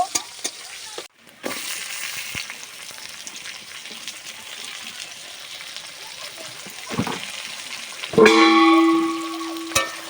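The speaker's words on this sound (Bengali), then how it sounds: "আমি তেজপাতা দিয়ে দিচ্ছি এবার নেড়ে নেব" Fish curry simmering in a pan with bay leaves and potatoes gets stirred, giving a steady sizzle with scattered scrapes and a louder burst of bubbling and clatter near the end.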